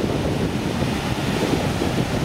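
Sea waves and wind at a sandy beach in Dubai, a constant loud wash of surf with heavy wind buffeting the microphone and no talking.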